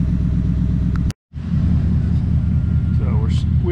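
A Ford Coyote V8 swapped into a project car idles loudly and close, a steady deep throbbing rumble that cuts out for a split second before the idle resumes.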